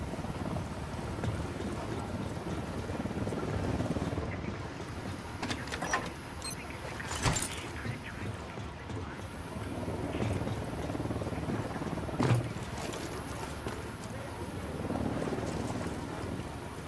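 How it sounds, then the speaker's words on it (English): A helicopter in Ghost Recon Wildlands, a steady rotor thrum and engine drone running throughout, with a few sharp clicks and thuds from gameplay cutting through. "I saw a chopper over here, I'm gonna steal it."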